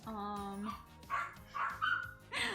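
A pet dog barks loudly indoors, starting with a drawn-out whine and then a string of sharp, close barks in an uneven rhythm, with no speech over them.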